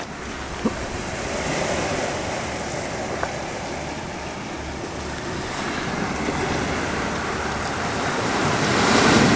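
Ocean waves break on a shore at sunrise with a constant broad roar of surf. Wind rumbles against the microphone throughout, and the wash swells louder toward the end. No voices are heard.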